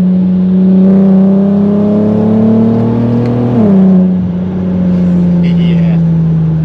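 An Audi TT Mk1 with the 3.2 V6 engine drones loudly and steadily from inside the car, its pitch climbing gradually before a brief dip and then settling into a constant hum.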